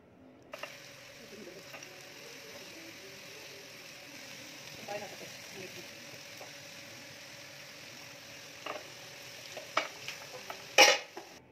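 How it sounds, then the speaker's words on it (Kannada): Rava-coated fish shallow-frying in a little oil on a tawa over a low flame, a steady soft sizzle with faint scraping and a few sharp clinks near the end. "ಈಗ ತವಾ ಅಲ್ಲಿ ಸ್ವಲ್ಪ ಆಯಿಲ್ ಹಾಕ್ಬಿಟ್ಟು ಆ ನಂತರ ಫಿಶ್ನ ಫ್ರೈ ಮಾಡಬೇಕು"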